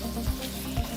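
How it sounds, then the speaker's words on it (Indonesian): A spoon stirring a shrimp-and-cilok mixture in a pan, two soft scraping thuds about half a second apart over a faint low sizzle. "Kita aduk rata."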